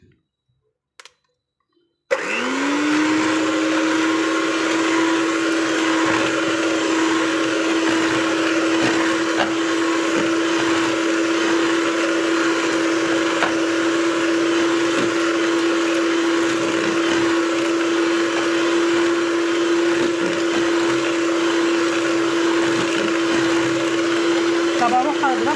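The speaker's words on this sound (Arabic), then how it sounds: "هنجيب المضرب بتاعنا، نحط الفيشه بس اهو" Electric hand mixer switched on after a couple of quiet clicks, then a steady whirring drone as it beats cake batter in a kitchen, holding evenly throughout.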